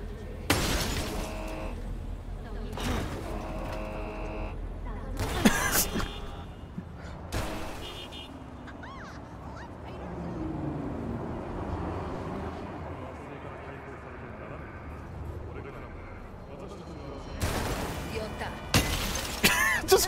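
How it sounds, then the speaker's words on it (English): Car in Cyberpunk 2077 repeatedly smashing into things, with sharp shattering crashes in bursts at the start and end and a quieter rumbling stretch between, while someone talks over it. "Crashing into everything."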